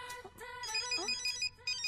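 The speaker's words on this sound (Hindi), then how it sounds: "मेरा फोन बज रहा है" A mobile phone rings nearby with a bright, melodic electronic ringtone of repeating chiming notes, heard clearly with no talking over it.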